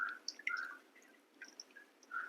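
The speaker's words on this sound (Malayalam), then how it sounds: "പുളി ഉപ്പും കൂടെ പിഴിഞ്ഞൊഴിക്കുകയാണ് ഞാൻ" Tamarind and salt squeezed by hand and poured into a pot of boiled toor dal for rasam, giving soft close drips and trickles in a quiet kitchen, with no talk.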